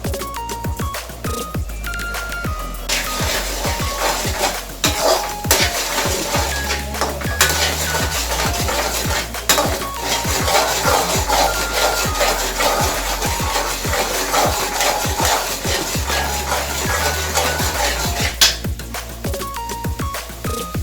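Metal spoon scraping and clanking steadily in a pan as sugar is stirred into bread halwa, a continuous close rhythm of scrapes and knocks with no talking.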